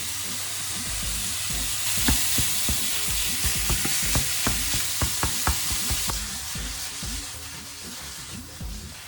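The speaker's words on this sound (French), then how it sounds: "On va faire rissoler pendant 2-3 minutes. On peut balancer la viande." Beef sizzling in a pan with salt, pepper, turmeric and cumin, a steady close frying hiss broken by regular scraping stir strokes.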